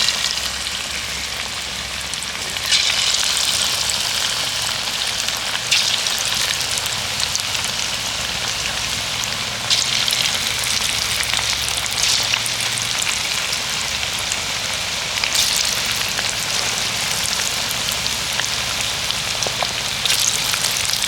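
Chicken pakoras drop into hot oil in a kadai and fry with a loud, dense, rain-like hiss that swells in surges as more pieces go in, steady and close throughout with no talking.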